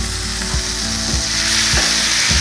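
Bread frying in a pan on an outdoor catch-and-cook setup, a steady loud sizzle with a few rhythmic low thumps or scrapes repeating underneath, no talking.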